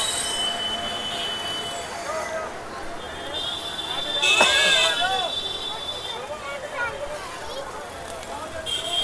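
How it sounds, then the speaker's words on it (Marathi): Train wheels squeal loudly on the rails as a train passes close by, with a sharp metallic screech peaking midway and fading, while a voice talks at times over the rumble. "वरती ट्रेन बघ."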